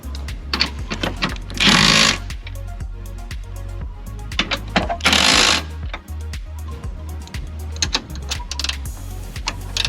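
A power tool tightens Hasport engine mount bolts on a 2019 Honda Civic, giving loud rapid rattling bursts of impact hammering with two longer sustained whirs, all close-up in a shop with a steady low hum underneath.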